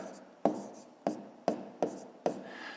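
Pen strokes tapping and scratching on paper as numbers are written by hand, five sharp separate marks spaced about half a second apart, close and fairly quiet.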